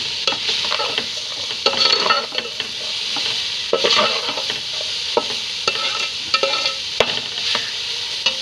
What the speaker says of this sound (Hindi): थोड़ी सी शिमला मिर्च है, ये भी बंद गोभी के साथ ही शामिल कर लेंगे। इन्हें थोड़ा सा भूनेंगे।